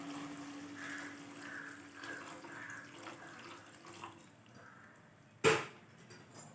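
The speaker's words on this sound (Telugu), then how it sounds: "కొంచెం వాటర్ వేసి" Water is poured into a cooking pot of amaranth leaf and sesame-flour tamarind stew, a quiet trickle with a faint hum, then a sudden sharp splash and clatter near the end.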